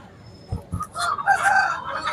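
A native country rooster, about eleven months old, crows once nearby at a poultry market, loud and drawn out, preceded by a couple of short thumps and clucks.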